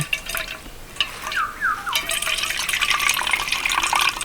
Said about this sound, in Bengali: হাত দিয়ে চেপে চেপে সম্পূর্ণ জলটা আমি ঝরিয়ে নেব